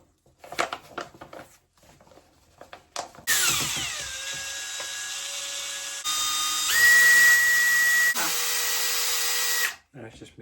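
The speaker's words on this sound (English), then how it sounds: "I don't think they expect you to mix it with a drill" A power drill with a mixing attachment churns plaster and water for casting hands, whining steadily at changing speeds for about six seconds after brief handling noises and voices.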